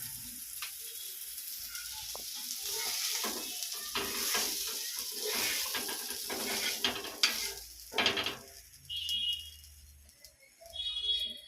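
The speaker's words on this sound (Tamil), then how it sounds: "இறா வறுத்தாச்சு." Prawns frying in a pan, a steady close sizzle with intermittent clinks and scrapes of stirring, fading toward the end.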